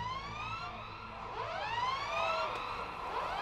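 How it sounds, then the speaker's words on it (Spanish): Sirens wailing on the outskirts of a city in the video game Valiant Hearts, several overlapping rising and falling tones sweeping steadily over a low rumbling game soundscape. "A las afueras de la ciudad, los aullidos de las sirenas recibieron a Ana."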